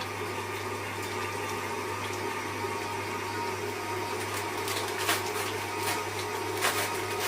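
An electric mixer runs at medium-high speed, creaming cake batter for a chocolate layer cake: a steady, close motor whir with a constant hum and faint rattling, holding even throughout with no one talking.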